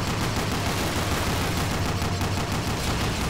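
Sustained machine gun fire in the World War II shooter Call of Duty, set at Bastogne, comes as a dense, continuous roar of rapid shots with no pauses.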